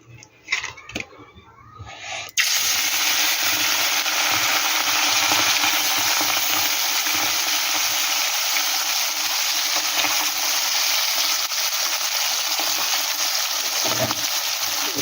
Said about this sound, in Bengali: এখানে কিন্তু আমি কড়াইতে তেলও বসিয়ে দিয়েছি। এবার মাছগুলো আমি ভেজে নেব।